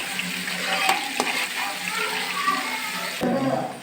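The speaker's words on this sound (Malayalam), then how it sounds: "അപ്പോൾ നമുക്ക് ഉപ്പിട്ടിട്ട് നന്നായിട്ട് വഴറ്റിയെടുത്തിട്ട് വരാം" Onions sauté with salt in a pan for chicken curry, a continuous close frying hiss broken by spatula scrapes and stirring knocks, with a faint voice in the background.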